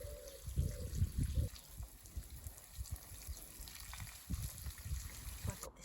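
Water splashes and trickles over freshly planted spring garden plants in uneven bursts, close and moderately loud, with soft outdoor background between pours.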